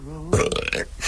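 A single loud, guttural burp bursts out after a brief voiced lead-in during a playful burping contest, rough and rumbling for under a second before trailing off.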